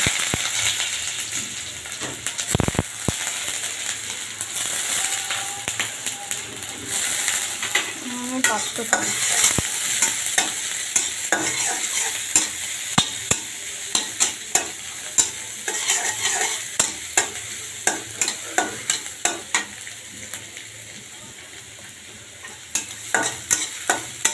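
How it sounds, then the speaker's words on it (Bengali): Chopped onions sizzle steadily in hot oil while a spatula stirs and scrapes against the pan with frequent sharp clicks and knocks, close and continuous for the whole stretch. "তেল দিয়ে দিছি এখন আমি পেঁয়াজ কুচে দিয়েছি"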